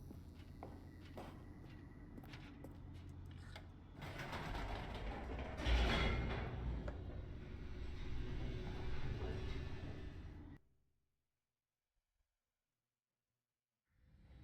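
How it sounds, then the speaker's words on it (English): Elevator descending in The Stanley Parable video game, a continuous mechanical rumble with clanks and ratcheting ticks that swells midway, then cuts abruptly into silence before a faint return at the end. "The elevator raced downward, plummeting towards an unknown fate."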